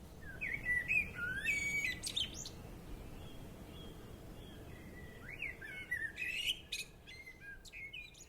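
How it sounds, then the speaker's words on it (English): A blackbird sings in a garden, two clear, fluting phrases of song with chirps, separated by a pause over a soft, steady outdoor background. "To the sound of the lovely singing of War Blackbird"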